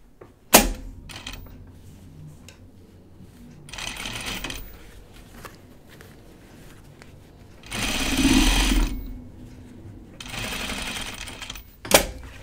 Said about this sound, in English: I'm going to stitch this down.